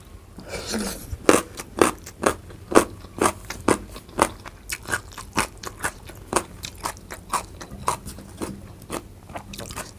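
Crispy rak hom chu stems are eaten with an olive chili dip, giving close, loud, rhythmic crunching bites and chewing, about one every half second, with no talking.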